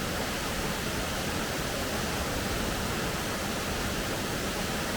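A waterfall at Ricketts Glen State Park, its main falls partly hidden behind rocks, roars in a dense, steady wash of rushing water, loud and unbroken from start to finish with no voices.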